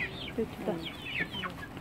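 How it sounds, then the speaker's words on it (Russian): Small chicks peep and cluck in a few quick, chirpy calls, fairly faint and close, over a low background murmur. "Много-много цыпляток."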